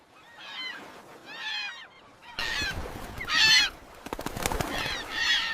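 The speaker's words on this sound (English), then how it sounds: "They are seabirds." Seabirds call in a series of loud, harsh, honking squawks, repeated close by with short gaps, amid some sharp noisy bursts.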